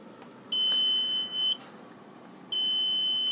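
A Jaycar LED clock kit alarm beeps in two steady high-pitched bursts separated by a short gap, heard up close over a faint background hiss, with no voices.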